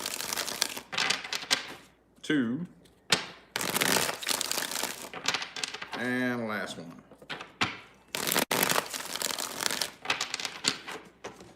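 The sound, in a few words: shuffling a deck of cards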